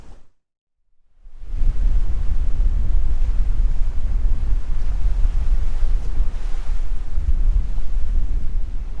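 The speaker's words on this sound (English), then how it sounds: "The wind's finally picked up" Wind blows hard across an open sea off Cape Mendocino aboard a sailing boat, a loud steady roar with buffeting rumble against the microphone after a brief silent gap at the start.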